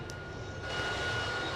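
Steady engine drone of a small four-engine airplane in a video game, a continuous close-sounding hum and whine that swells slightly louder partway through, with no talking.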